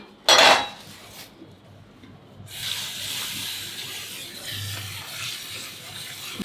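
Food rinsed in a bowl at home, a sharp clatter of dishware, then running water hissing and splashing steadily close by.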